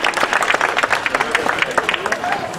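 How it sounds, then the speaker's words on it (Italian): A crowd claps steadily and warmly for a couple of seconds, dense applause filling the room with no break. "Bel applauso anche a loro di incoraggiamento."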